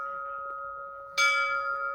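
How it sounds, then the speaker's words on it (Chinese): A bell at Lavender Forest in northern Taiwan is struck once, sharply and loudly, its bright metallic ring swelling over a steady lingering hum and then slowly fading. "阿万谁要去敲钟？"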